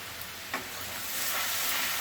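Tilapia with turmeric, salt and two dried chillies sizzles steadily in hot oil in a pan, a close, continuous frying hiss with a soft clink early on.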